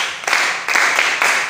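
Children clap their hands along with a song, four to five distinct rhythmic claps close by and fairly loud, with no other sound between them.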